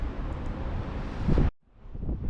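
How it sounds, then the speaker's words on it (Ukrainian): Steady wind roars and buffets against the microphone in the small town of Perpignan, France, then cuts out briefly before gusting back in. "трошки вітряно сьогодні"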